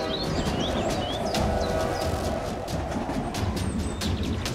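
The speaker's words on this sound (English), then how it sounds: "A train is approaching." Train approaching on railway tracks as a steady, loud low rumble and rolling clatter, with high bird chirps scattered over it.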